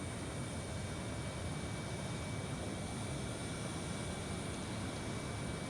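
An airliner rolls out along the runway after landing in a flight simulator, giving a steady, loud, even roar of engine and rolling noise that holds unchanged throughout, with no talk.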